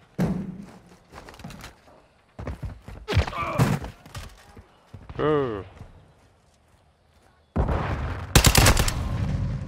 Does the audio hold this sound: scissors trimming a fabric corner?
no